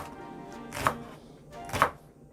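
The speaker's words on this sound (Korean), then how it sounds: "이제 같이 곁들여 넣어 먹을 파를 한번 썰어 보도록 할게요." A knife slices through a Korean green onion (daepa) on a cutting board with two separate crisp chops about a second apart, close and clear against a quiet room.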